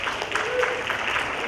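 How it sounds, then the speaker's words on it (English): A brief burst of steady applause from a summit audience, many hands clapping together at an even, moderate loudness. "let's give them a nice warm round of applause."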